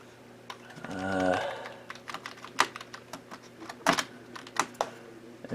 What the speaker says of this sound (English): Have to use a function key on this keyboard